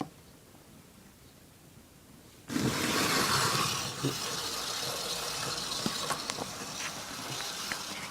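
A Hornby 9F model steam locomotive starts off around a model railway track, a sudden steady whirring rush with faint clicks of wheels over rail joints, close and continuous.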